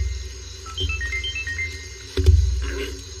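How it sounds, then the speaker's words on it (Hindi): A mobile phone ringtone plays as a short melodic tone sequence, moderately loud and close, in a dubbed Indian action movie scene with low background hum. "लो नजीब का फोन।"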